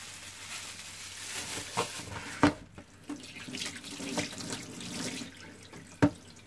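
Water from a kitchen tap runs steadily into a sink as hands are washed after handling fish, with a soft continuous hiss broken by a few sharp splashes and clunks.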